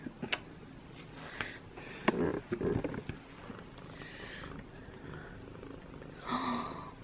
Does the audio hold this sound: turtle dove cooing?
no